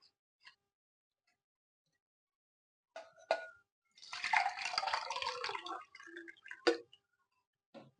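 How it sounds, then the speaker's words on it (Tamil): Water pours into a pot of milk in a short splashing stream, nearby and moderately loud, with scattered clinks and drips before and after in quiet surroundings. "அடுத்ததா தண்ணி சேர்த்துக்கிறேன்."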